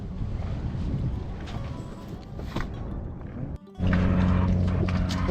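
A small sailboat under sail in light wind on open water, with steady broadband wind and water rush throughout, a brief dip near the middle, then a louder, fuller wash of wind and hull noise.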